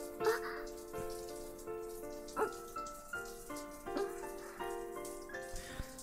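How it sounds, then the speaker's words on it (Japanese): A shower runs as a sound effect in the Muv-Luv visual novel game: a soft, steady patter of falling water that stays quiet beneath gentle background music with spaced melodic notes. "シャワーの音が全てをかき消してくれるから恥ずかしさが薄れる。"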